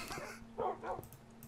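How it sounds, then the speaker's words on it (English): Several dogs in Minecraft give short, close barks and yips, a few quick bursts over a faint steady hum. "There's so many dogs here."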